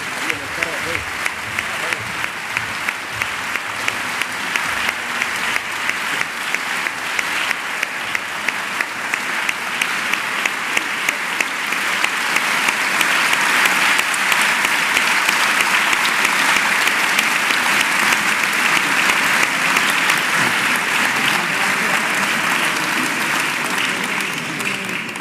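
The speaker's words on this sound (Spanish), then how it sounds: "la despedimos con ese fuerte aplauso" Loud, sustained audience applause fills a charity event hall in Cartagena, Spain, holding steady for the full stretch and swelling slightly midway, with no break or speech over it.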